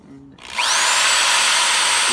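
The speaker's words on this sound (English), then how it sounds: "drill the hole." A power drill whirs up to speed after a moment of quiet, boring steadily into a plastic 2-liter bottle with a high, constant whine.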